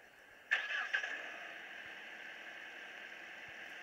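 A Volkswagen car's engine starting in the video game Car Simulator 2, a short cranking burst followed by a second catch, then settling into a steady, quiet idle hum.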